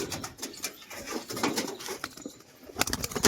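Pigeons, a pair of tumbler pigeons kept for rolling flight, make low cooing calls with soft fluttering and patter, fairly close, in irregular bursts with no talking.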